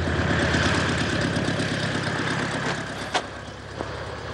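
A car engine idles close by in a steady, low, throbbing rhythm that eases slightly toward the end, with a couple of faint clicks and no voices.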